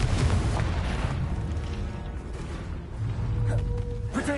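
In the Hogwarts Legacy video game, a Confringo fire spell bursts into a loud rumbling explosion, followed by sustained roaring debris and rumble, with a sharp crack near the end.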